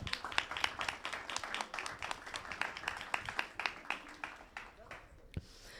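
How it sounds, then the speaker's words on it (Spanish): Audience at a university political science orientation fair clapping in a modest, uneven patter, fairly faint and gradually thinning out. "un aplauso para ella,"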